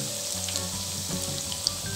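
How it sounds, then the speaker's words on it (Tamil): Breaded mutton cutlets deep frying in hot oil, a steady dense sizzle and crackle close up, continuous and fairly loud with no voices. "இப்போ இது நல்லா பொரிஞ்சிட்டுது"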